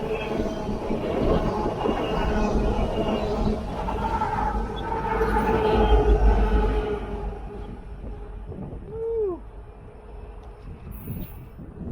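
A fast-moving train rolls past close by, a steady loud rumble of wheels and cars with some rail squeal and a brief rising whine near the end as it thins out.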